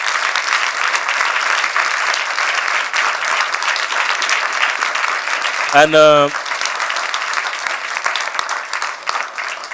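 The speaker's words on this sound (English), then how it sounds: "Give a big applause to any single of them." An audience applauds at an Afropolitan Festival event in Belgium, a steady roar of clapping that fills the whole stretch, with a short voice cutting in partway through.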